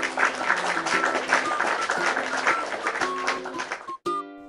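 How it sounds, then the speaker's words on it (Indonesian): Applause for a child in the Avatar World game's playgroup scene rings out as brisk, bright clapping for about four seconds, ending in a short chime-like jingle. "Tepuk tangannya gimana teman-teman?"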